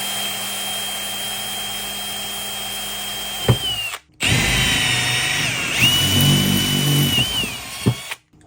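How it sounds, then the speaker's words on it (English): A powered tap cuts a 1/8 MPT tapered thread for an oil drain in a Warn 8274 winch part. Its steady, loud whine stops briefly near the middle, then resumes with a shifting pitch and uneven load, no talking. "One thing about tapping a tapered thread, like this is 1/8 MPT, is you don't want to tap it too deep"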